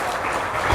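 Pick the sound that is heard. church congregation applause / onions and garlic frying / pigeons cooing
church congregation applause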